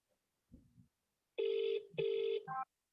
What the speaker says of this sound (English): Yeah, it's ringing.